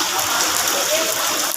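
Steady, dense hiss of heavy rain pouring down on a flooded street in Binondo, Manila, close and loud, with no break and no voices.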